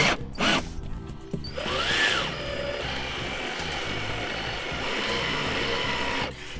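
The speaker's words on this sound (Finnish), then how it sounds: "Ei pidä liian nopeasti porata, että se puu kerkee niinku mukaan, ettei se räpsää." Electric drill boring into wood while building a wooden birdhouse, a steady grinding whir running for several seconds after a few short knocks and a rising whine, close and fairly loud.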